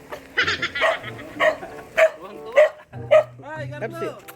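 Several dogs bark in short bursts, loud and close, at a homecoming, with people calling out and talking over and between the barks.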